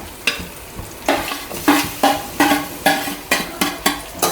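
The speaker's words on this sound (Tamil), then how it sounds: "இந்த நெய்யிலேயே நல்ல அந்த பழம் வந்து வெந்து வர்ற அளவுக்கு வதக்கணும்" Jackfruit, mango and banana pieces are stirred and sautéed in ghee in a pan, with a steady sizzle and a regular scraping stroke roughly every half second, close and loud.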